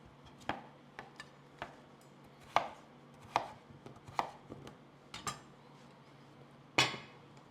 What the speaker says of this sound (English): Peel it carefully and dice it to small pieces.